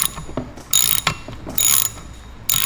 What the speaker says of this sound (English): so I gotta back this bolt out a little bit